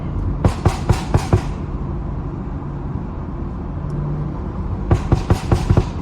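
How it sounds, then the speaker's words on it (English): A BMW's exhaust crackles with a quick run of sharp pops and bangs over steady road and engine noise while driving on canyon backroads, falls quiet, then fires off another cluster near the end. "these pops are non-stop behind him"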